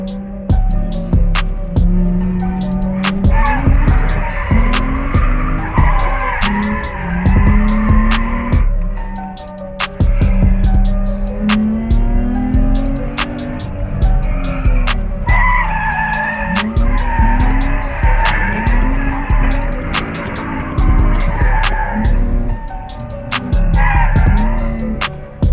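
An Infiniti G35 drifts around the Grand Bend track at a drift day, its tires squealing in long wavering howls over a loud revving engine, continuous and close throughout.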